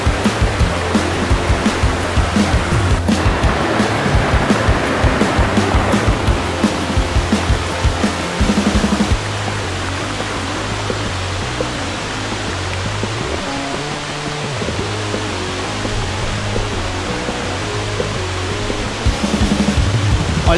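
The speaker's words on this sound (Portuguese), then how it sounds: "já chegamos perto da cachoeira gigantesca." Salto Cantagalo, a very tall waterfall near Morretes, roars in a loud continuous broadband rush that stays steady and close throughout, with no talking.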